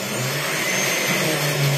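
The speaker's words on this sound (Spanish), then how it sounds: "Ahora vamos a licuar esta salsita para esta pasta." A kitchen blender liquefying salsa for a green poblano pasta, a steady loud whirring motor drone running throughout without a break.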